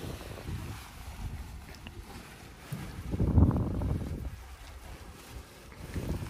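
Wind of around six to seven miles per hour gusting across the microphone during paramotor wing ground training, a low buffeting rush that swells midway then eases.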